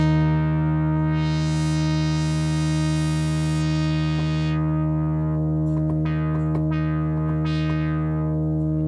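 Sustained synthesizer tone built from two slightly detuned sawtooth oscillators and one triangle oscillator, filter cutoff opened a little with resonance raised; a steady, loud, buzzy held chord plays alone with a few short added notes toward the end.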